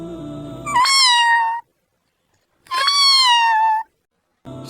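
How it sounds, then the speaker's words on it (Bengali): A cartoon cat gives two clear, drawn-out meows with a short silence between them, and a third begins at the very end; the calls are close and loud with nothing else behind them. "হঠাৎ বারান্দা থেকে মিউ মিউ শব্দ ভেসে এলো"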